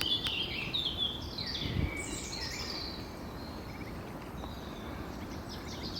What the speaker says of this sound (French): On écoute une dernière fois les oiseaux chanter.